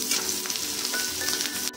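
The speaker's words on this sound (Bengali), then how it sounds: "পেঁয়াজটা হালকা লাল করে ভেজে নেব।" Chopped onion sizzles steadily in hot oil and ghee spiced with cinnamon and cumin, a dense, even crackle up close with no voices.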